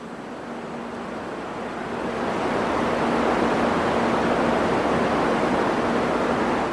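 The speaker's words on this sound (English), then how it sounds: "Yeah, this is the low-life soil," Contact-microphone recording from inside low-biodiversity soil gives a steady, dense hiss with little variation, swelling slightly louder partway through, with no distinct individual sounds or voices.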